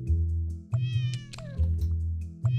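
A cat meows in the video game Cats Organized Neatly, several short, clear meows over a steady, looping background music bed.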